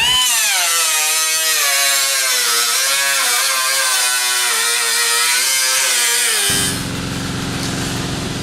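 A power tool cuts through rusty sheet metal on the inner brace of a C10 truck fender, a loud, steady grinding whine running unbroken for several seconds before dropping to a harsher, lower buzz near the end.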